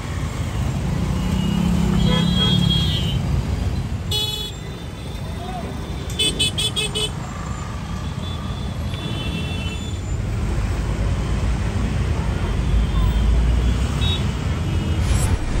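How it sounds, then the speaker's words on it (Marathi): Heavy traffic stuck in a jam on the Pune–Nashik highway in Khed taluka, with a steady dense roar of engines and repeated car and truck horns honking near and far. "पुणे नाशिक महामार्गावर खेड तालुक्याच्या हद्दीत दिवसभर मोठ्या प्रमाणात वाहतूक कोंडी होऊन चक्का जाम होत आहे"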